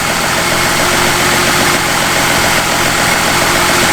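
A 2014 Ford Mustang 3.7L V6 engine idles steadily and loudly up close while warming up after a coolant thermostat replacement, an even mechanical hum with a faint whine and no talking.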